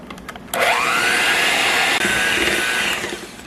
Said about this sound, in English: we're going to take a mixer, mix this up